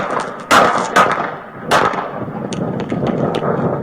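A Las Vegas police officer's pistol, fitted with a red dot sight, fires three loud, sharp shots in quick succession close by, followed by fainter knocks and scuffling.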